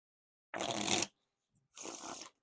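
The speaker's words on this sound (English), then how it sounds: "But they're still pretty smooth for the riffle shuffles." Two quick riffle shuffles of a Cardtopia NYC 2023 playing card deck, each a bright half-second flutter of snapping cards, separated by a short pause, close by.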